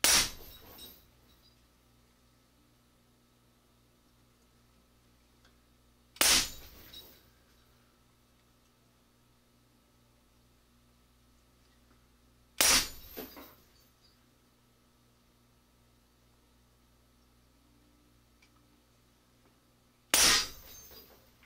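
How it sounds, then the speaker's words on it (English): A .357 Western Rattler lever-action rifle fires four loud, sharp shots, spaced about six seconds apart. Each crack decays quickly into near silence, and no one speaks. "that was 15 shots"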